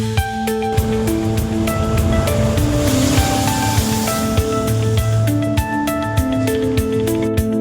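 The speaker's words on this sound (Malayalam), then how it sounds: "കൊല്ലം, ആലപ്പുഴ ജില്ലകളിൽ ശക്തമായ കടൽ കയറ്റം." Strong sea surge pounding the coast of Kollam and Alappuzha districts in Kerala, a loud continuous wash of surf and spray close by, with no voices.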